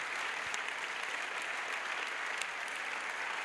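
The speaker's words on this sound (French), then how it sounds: "A clap offered to Jesus Christ." A congregation at an evangelistic crusade claps for Jesus Christ, a steady, dense wash of applause filling the space evenly from start to finish.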